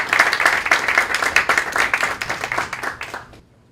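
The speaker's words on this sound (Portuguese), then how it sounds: "Eu queria que vocês recebessem com uma salva de palmas o professor Ulisses" An audience at a law school's opening lecture claps to welcome a professor, dense fast applause filling the room for about three seconds before quickly dying away to silence.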